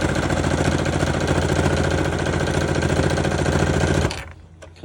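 A sewing machine stitches through fabric on an art board cover, a steady loud mechanical whir with rapid needle rhythm running continuously for about four seconds before stopping abruptly into near quiet.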